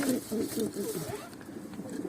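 Low, rolling coos from domestic play pigeons kept in a loft, close and steady for a couple of seconds with no speech over them.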